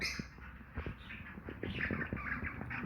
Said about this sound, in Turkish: Bu kuşlar yine.